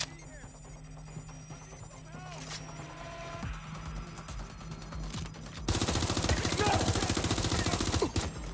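Gunshots ring out in the video game Watch Dogs Legion, with sparse shots early and then a dense, loud sustained burst of rapid fire near the end, over game voices and background sound.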